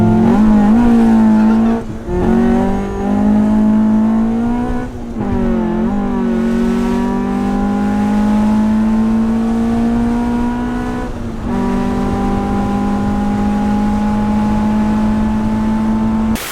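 Honda CRX with a VTEC engine revs hard and loud, its pitch climbing through repeated pulls with brief dips between shifts, sustained and close for the whole stretch with no talk.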